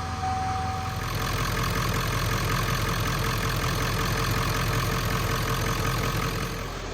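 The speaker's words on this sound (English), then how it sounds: "I absolutely love how these first gen Powerstrokes sound idling." A first-generation Ford 7.3 Powerstroke diesel idles at a steady, even clatter for several seconds, moderately close, with a faint tone in the background and no one talking.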